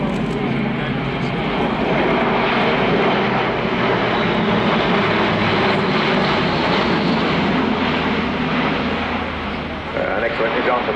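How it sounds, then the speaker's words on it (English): Propeller transport aircraft diving on a steep 60-degree nose-down approach with propellers in fully fine pitch, a loud, steady broadband engine and airscrew roar sustained throughout, with a voice talking over it. "An excellent example there of a 60 degrees nose down steep approach with propellers in fully fine, which kind of work as an air brake"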